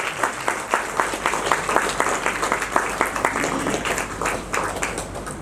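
An audience at an Onam cultural programme applauds in a steady, dense burst of clapping that lasts throughout, fairly loud and close, with no distinct voices over it.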